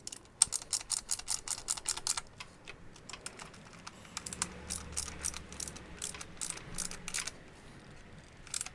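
Ratchet tightening cam cover bolts on a VW T4 2.5 TDI engine, rapid close clicking in quick runs with short pauses, fairly faint, with no voices.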